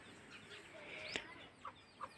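Faint country chicken clucks and a soft squawk at a distance from a flock of thirty to forty birds, a few short calls over quiet background hiss.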